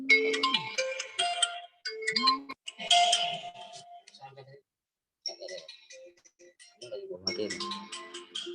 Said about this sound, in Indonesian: Soalnya ada telepon masuk.